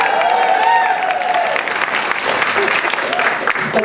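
An audience at an awards benefit dinner bursts into loud sustained applause with some cheering and whistles, a dense wash of clapping that fills the room throughout.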